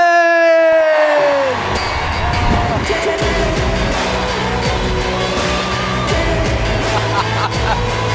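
Loud arena crowd roars and cheers for a guest's entrance at a live show at The SSE Arena, a sustained wall of noise after a brief musical sting at the start.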